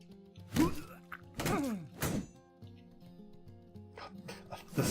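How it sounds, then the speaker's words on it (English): A mace thudding into a raider in the video game Battle Brothers, a few heavy dull impacts in quick succession over a low droning game soundtrack. "The sound that mace makes thuds into a raider."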